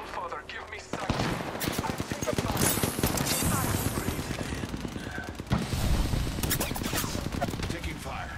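Rapid automatic gunfire from a battle-royale shooter game rattles in dense, continuous bursts, with a short pause and a renewed volley, under occasional game effects.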